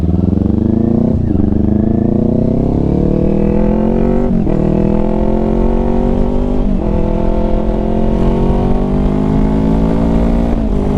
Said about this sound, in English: We've been out riding for 2 hours straight on this bike.